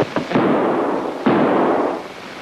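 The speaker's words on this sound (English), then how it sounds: "Well, good shooting, Posey." Two sharp blasts in a comedy sketch duel, the first at the start and the second about a second later, each loud and followed by a long ringing tail with no talk.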